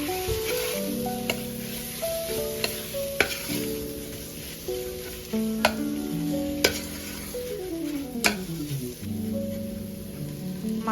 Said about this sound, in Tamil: மசாலா பச்சை வாசம் போகிற வரைக்கும் வதக்கிக்கலாம்.